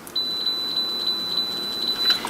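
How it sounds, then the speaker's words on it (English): A multimeter set to continuity gives a steady, high, piercing beep while probing a fuse in a NuTone NM100 radio intercom master station. The tone holds almost unbroken, with faint clicks of the probes. "we put our multimeter on continuity, so when we have a connection it beeps"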